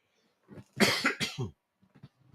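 A short burst of harsh coughing, three or four quick hacks close to the mic, followed by quieter throat sounds.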